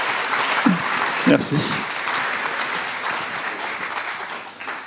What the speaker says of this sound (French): nous allons couvrir d'un tonnerre d'applaudissements.